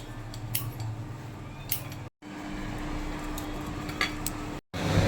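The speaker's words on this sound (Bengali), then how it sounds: "শিউলি পাতাগুলো প্রথমে কুচো কুচো করে কেটে নেবো।" Shiuli (night jasmine) leaves are cut finely, giving quick, crisp snipping clicks in a steady rhythm. The sound is close and fairly quiet over a low background hum, broken by two short gaps.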